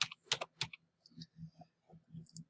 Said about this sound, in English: So I'm going to type my date of birth right here.